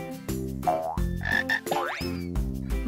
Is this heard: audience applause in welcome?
no